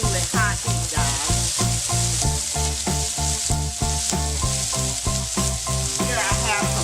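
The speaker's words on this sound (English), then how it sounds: "you want to saute this on extremely high heat" Garden vegetables with onions, salt and black pepper sauteing in a skillet over extremely high heat, a loud dense sizzle with rhythmic stirring and tossing scrapes repeating through the clip, nobody speaking.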